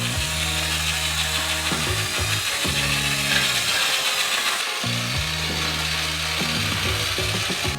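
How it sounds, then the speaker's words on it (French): A construction paddle mixer churns a large batch of heated milk with 12 kg of sugar, giving a steady, loud mechanical grinding whir with rhythmic ratcheting pulses and brief dips as the paddle shifts. "Et mélangez avec un batteur de chantier."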